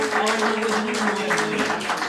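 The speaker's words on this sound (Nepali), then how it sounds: "कृपया जोरदार रूपमा ताली बजाइदिनुको लागि हार्दिक अनुरोध गर्दछु" An audience at an honoring ceremony applauds, brief dense clapping with voices murmuring underneath.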